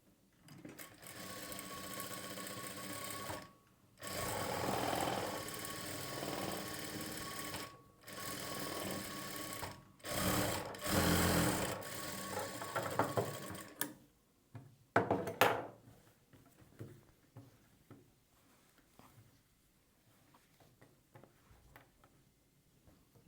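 A sewing machine double-stitches a blouse sleeve in several loud bursts of rapid, steady mechanical stitching, separated by brief pauses, then gives way to quieter handling sounds near the end.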